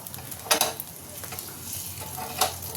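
Oil with salt and turmeric heats in an iron wok, a soft continuous sizzle close by with a couple of brief louder scraping stirs, no talk.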